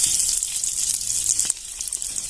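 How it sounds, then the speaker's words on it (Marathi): Boiled potatoes frying in hot oil in a pan, a continuous close bright sizzle with a slight soft shift partway through, no voices. "इथे मी बटाटे उकडलेले हे फ्राय करून घेते"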